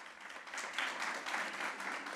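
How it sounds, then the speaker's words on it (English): An audience gives the Visual Performing Arts Manager a round of applause, a brief, steady roll of many hands clapping at moderate distance, swelling slightly partway through. "let's give her a round of applause."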